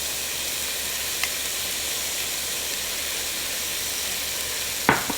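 Flour cooking in a pot for pot roast sizzles and hisses steadily and loudly throughout, with a couple of brief sharper spits, and no talking.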